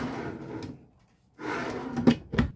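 A pantry drawer in a 2014 Evergreen Ascend A191RB travel trailer opening or closing, giving a couple of short close wooden slides and knocks with a quiet gap between them.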